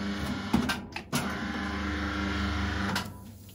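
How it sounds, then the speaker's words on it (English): An Ideal 5210-95 paper guillotine has its clamp lowered against a steady mechanical hum, with a few sharp clunks close by as the clamp comes down. "you can bring the clamp down, move for final adjusting"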